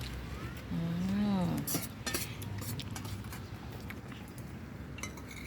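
Cutlery and dishes clink softly while a family eats rice with papaya curry and bamboo shoot soup, light scattered taps after a brief voice, fairly quiet.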